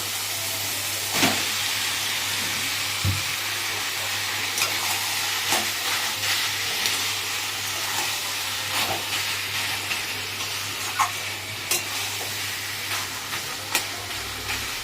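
Eggplant added to a hot pan with melted tomatoes for an eggplant bharta. A steady, close sizzling hiss runs throughout, broken by occasional light clicks and scrapes.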